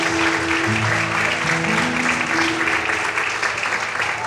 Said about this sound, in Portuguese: Vamos poder aplaudir e exaltar o Senhor por isso.